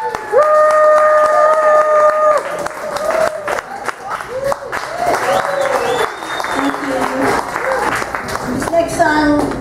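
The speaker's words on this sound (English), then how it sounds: "Ladies and gentlemen, clap it up." Audience clapping for a singer at a live performance, steady applause with some crowd noise, partly mixed with a sustained tonal sound and a voice over it.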